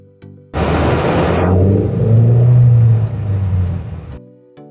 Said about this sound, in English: listen to the noise of the engine